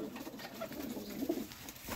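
Pigeons of a red-eyed breeder pair cooing softly and steadily at close range, a low murmuring with a few brighter swells, no voices over it.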